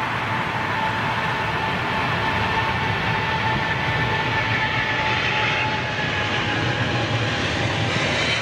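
A Boeing 777 airliner with GE engines roars steadily at close range, a broad continuous jet rumble with a faint high whine, holding loud throughout with no voices.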